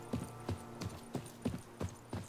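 Horse hooves clip-clop at a steady walking rhythm in The Witcher 3 video game, each step clear and moderately close over a soft ambient background, with no talking.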